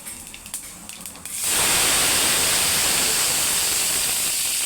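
A teaspoon of cumin seeds drops into hot oil for tempering, bursting into a loud, steady sizzle after a quieter moment and hissing continuously to the end.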